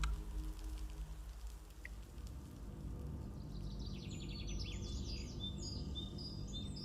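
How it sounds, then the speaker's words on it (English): Birds chirping on a summer evening, quick high tweets rising out of a steady low background hum after the first few seconds, fairly faint and distant. "The birds were chirping in the evening warmth of summer."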